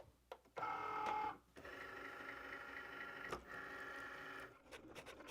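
A Cricut cutting machine with a rotary blade slices 100% polyester acrylic felt, giving off a quiet, steady mechanical whir that runs with short pauses and shifts in pitch.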